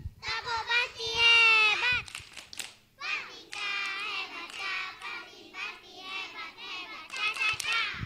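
Kindergarten children at a school stage event chant in rhythm with a grown-up leading, their high voices alternating in call-and-response bursts with brief clapped accents between lines.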